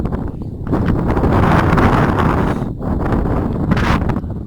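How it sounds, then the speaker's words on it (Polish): Strong wind on a kayaking trip down the Nida river buffets the microphone in loud, continuous roaring gusts, with brief dips in between. "wiatr jest bardzo mocny"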